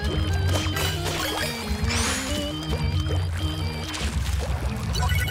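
Water draining from the Splatoon stage Mahi Mahi Resort as the level drops, a rushing, pouring wash that swells briefly over steady, busy in-game music and effects.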